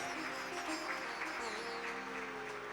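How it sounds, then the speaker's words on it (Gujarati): An audience claps steadily to welcome a devotee at a religious discourse gathering, with sustained, even applause throughout, fairly distant and diffuse. "તાળીઓના ગડગડાટ સાથે વધાવીએ."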